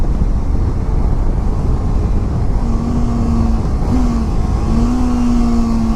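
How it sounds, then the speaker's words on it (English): Kawasaki Ninja 300 motorcycle engine braking on approach to a stop sign, a steady loud engine drone under wind rush, with a low droning tone emerging and dropping slightly in the second half. "Yeah, see, engine braking."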